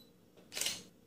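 A single press of a camera's shutter button gives a short, crisp mechanical click as a picture is taken. It sounds close and fairly quiet against a still background.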